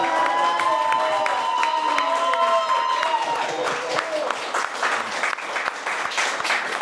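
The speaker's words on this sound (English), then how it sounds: "So a big round of applause for everybody." Loud audience applause with cheering fills an event hall at a special edition artist gathering in Buenos Aires, steady clapping throughout with whistles and shouts rising over it.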